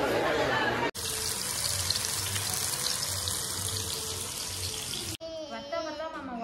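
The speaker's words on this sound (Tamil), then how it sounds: "தண்ணி வந்துடுச்சு." Water running from a household tap in a home kitchen or sink area, a steady broadband gush that fills most of the clip before cutting off, with brief talk and other sounds at either end.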